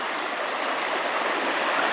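A creek runs steadily on a cold, frosty morning among broken, refrozen ice, its broadband rushing wash continuous and fairly close, with no voices.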